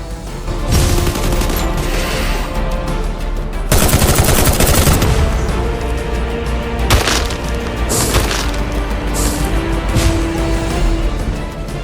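Loud, dense automatic gunfire from the battle-royale game Free Fire, with rapid bursts, sharp single cracks and a brief near-continuous volley, steady throughout with no talking.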